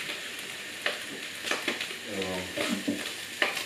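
Vegetables sweat in a saucepan for a vegan dish of green beans, seitan and mushrooms, with a soft continuous sizzle and occasional stirring scrapes and clinks close by.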